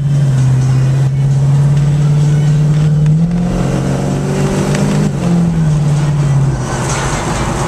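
A Dodge Dart GT engine runs steadily while driving on a warm morning, a loud continuous drone with the pitch rising and easing through gear changes, close and dominant throughout with no talk.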